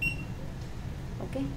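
A short, high electronic beep sounds at the start from a meter testing a shorted BC547 transistor between collector and emitter, followed by quiet room tone and brief speech.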